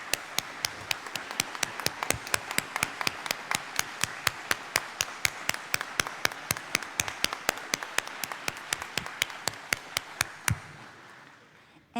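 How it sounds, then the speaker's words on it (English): Applause for faculty and staff at an 8th grade celebration ceremony, dominated by sharp, evenly spaced claps from a nearby pair of hands repeating at a steady rhythm for about ten seconds before stopping. "Please stand for a much-deserved round of applause."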